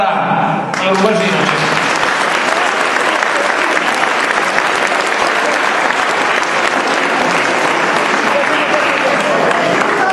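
Audience at an amateur Sicilian-language theatre comedy breaking into loud, sustained applause, a dense wash of clapping that starts after a brief voice and carries on steadily to the end.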